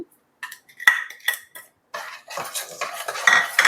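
Mango pulp with sugar and cardamom powder being stirred in a pan for mango thandra, a spoon scraping and clinking against the metal in short bursts, sparse at first and then busier and louder, with no talking.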